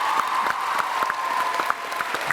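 A large convention crowd at a TwitchCon Amsterdam gaming panel bursts into loud, dense applause that carries steadily throughout, with scattered whoops and cheers rising above the continuous clapping.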